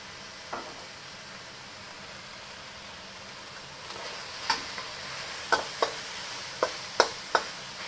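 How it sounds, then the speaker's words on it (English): Pork lo mein stir-fries in a hot pan with a steady low sizzle, and sharp utensil scrapes and clicks come more often in the second half. "You don't need to constantly stir this. You can kind of just let it cook through and develop some of the browning."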